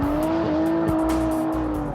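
An Aston Martin DBS engine revving hard, a loud sustained growl with a steady rising tone, alone with no talk.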